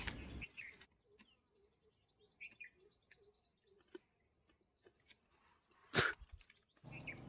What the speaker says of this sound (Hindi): उम्मीद है चिड़ियों के चहचहाने की आवाज़ आप तक भी पहुंच रही होगी।